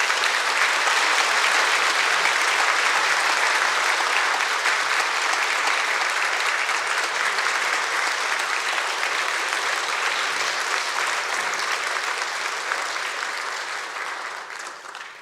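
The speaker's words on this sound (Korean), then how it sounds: "목사님 나오실 때 여러분 박수로" A church congregation at a Sunday worship service applauds steadily and loudly for the pastor as he comes out, a dense wash of clapping that holds for about thirteen seconds before beginning to fade.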